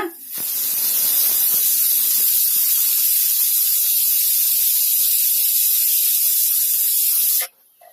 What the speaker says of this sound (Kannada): ಈಗ ಕುಕ್ಕರ್ ಮುಚ್ಚಳ ಮುಚ್ಚಿಟ್ಟು ನಾಲ್ಕು ವಿಜಲ್ ಬರೋವರೆಗೂ ವೇಟ್ ಮಾಡೋಣ